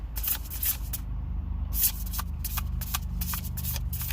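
Rapid crisp riffling of tarot cards being shuffled, in repeated bursts of snapping flicks close by, over a low steady background hum.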